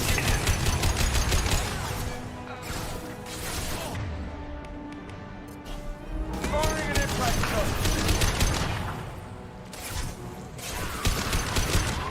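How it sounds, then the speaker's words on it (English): Bursts of gunfire from the video game Mass Effect 2 come in irregular clusters of rapid shots and mechanical clatter, loud against game sounds, with a voice speaking in the gaps between volleys. "Firing now."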